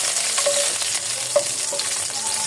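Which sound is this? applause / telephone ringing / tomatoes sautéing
tomatoes sautéing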